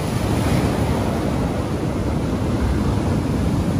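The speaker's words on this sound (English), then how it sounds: "you can hear that big sea rumbling in" Big sea surf rumbling onto the beach at Lyme Regis in Pinhay Bay: a constant, loud, broad roar of breaking waves mixed with wind buffeting the microphone, with no voices.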